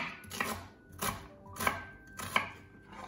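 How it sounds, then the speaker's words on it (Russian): A knife chops onion into small pieces on a board for a beetroot and herring salad, four evenly spaced, crisp cuts close up with no talking. "у меня две луковицы, и режу небольшими кусочками"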